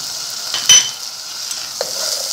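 Achwani mixture with raisins and sugar roasting in a pan, a steady soft sizzle with a couple of brief stirring scrapes, close and alone.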